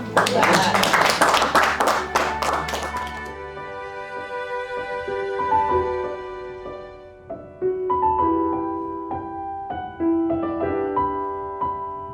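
A family gathering audience claps for about three seconds, a dense burst of applause that gives way to sustained musical tones.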